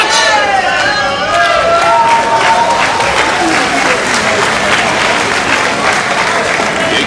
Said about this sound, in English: You can hear the appreciative applause in the background as this crowd here in Tokyo